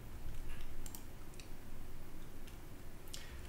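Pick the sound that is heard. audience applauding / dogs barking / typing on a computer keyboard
typing on a computer keyboard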